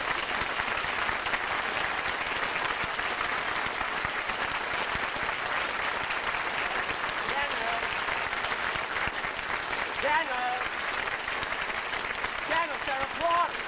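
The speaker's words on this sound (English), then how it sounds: "they're applauding" A studio audience at a Jack Benny comedy show bursts into sustained, dense applause, an even roar of many hands clapping that carries without pause.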